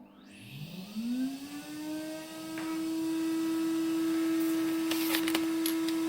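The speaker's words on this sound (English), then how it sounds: "I'm going to put my Hoover on" A Hoover vacuum cleaner starts up and runs, its motor whine climbing in pitch over the first two seconds and then holding a steady, loud drone, with a few brief clicks and rattles near the end.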